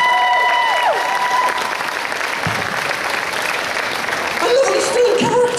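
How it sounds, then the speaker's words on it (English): An audience at a sci-fi convention's junior cosplay competition applauds a Master Chief cosplayer, a steady crowd clapping under tonal music and a few voices, swelling slightly near the end. "Everybody, a round of applause for the Master Chief."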